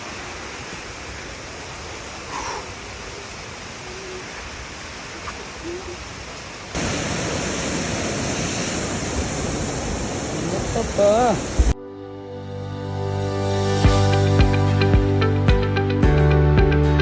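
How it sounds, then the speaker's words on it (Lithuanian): A wild jungle waterfall in Thailand roars as steady broadband rushing water, loud and continuous, shifting closer and louder partway through; a brief exclamation and some talk sit over the noise. "Trečiasis krioklys Zongrauja. Jis yra laukinis krioklys"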